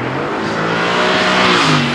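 An Aston Martin Vantage engine revs loudly and close, a continuous strained roar that climbs in pitch over two seconds with no voices.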